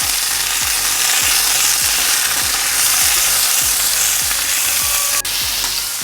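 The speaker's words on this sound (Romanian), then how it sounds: "tigaie pe foc, aruncate toate legumele, un pic de sare și le lăsăm să se mermelească un pic" Vegetables with a pinch of salt sauté in a hot frying pan, giving a steady loud sizzle, with faint scraping stirs repeating in a regular rhythm throughout.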